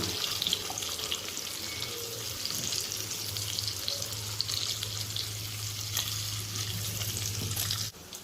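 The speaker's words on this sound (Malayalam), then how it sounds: "ഇനി പതുക്കെ ഇത് തിരിച്ച് മറിച്ച് വെച്ചിട്ട് നമുക്കൊന്ന് ഫ്രൈ ചെയ്തിട്ട് എടുക്കാം" Paneer cubes fry in oil in a pan, giving a steady close sizzle throughout with faint stirring and clinks, then stopping abruptly near the end.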